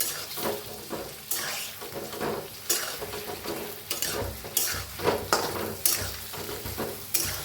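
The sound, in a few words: stirring and frying stuffed brinjal (vangi) in a pan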